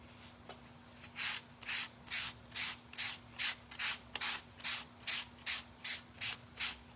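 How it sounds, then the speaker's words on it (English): An electric sander works across cork and ceramic coasters in a steady series of about fifteen even, rhythmic rasping strokes, quiet and close, over a constant low mains hum, with no voices. "I need my sander, we'll see."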